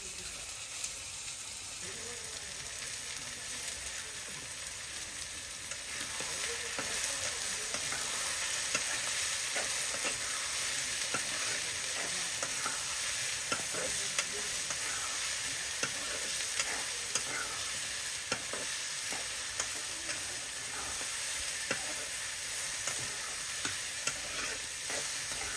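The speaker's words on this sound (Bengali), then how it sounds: "চিংড়ি মাছগুলা আমি পেঁয়াজের লগে ভাজা ভাজা করে নেব।" Prawns frying with onion in a hot oil pan, a continuous crackling sizzle that grows louder partway through, broken by frequent stirring scrapes.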